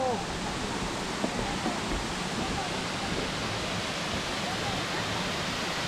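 Waterfall at Minas Viejas in the Huasteca Potosina, a steady loud broadband roar of falling water filling the scene without a break.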